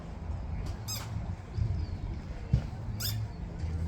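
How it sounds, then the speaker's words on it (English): A squeak toy squeezed twice to catch a barn owl's attention at an outdoor Renaissance festival bird show, giving two short, sharp, high squeaks about two seconds apart over steady crowd and outdoor background noise. "It's a squeak toy."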